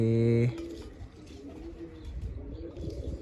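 Pigeons at a loft being dewormed coo softly and steadily in the background after a brief tonal hum at the start, with close low rustling throughout.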